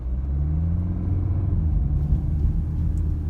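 Car pulling away from traffic lights, a low engine rumble building steadily as it accelerates, heard from inside the vehicle with no talking.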